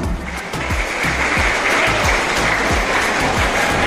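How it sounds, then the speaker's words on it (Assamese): Students at a welcome ceremony at a school academy clap their hands in loud, dense applause. It is sustained and close, a continuous roar of many hands with no talk over it. "তোমালোকে হাত চাপৰি বজালে ভাল পাম"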